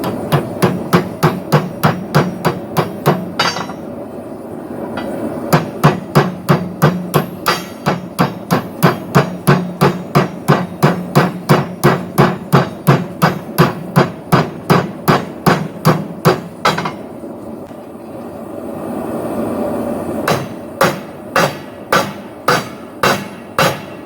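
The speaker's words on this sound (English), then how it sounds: "now I'm going to use my hammer here to basically close this" Hammer blows ringing on hot steel during forge welding at a propane forge, a long, loud, steady series of sharp metallic strikes in fast regular rhythm, broken by two short pauses.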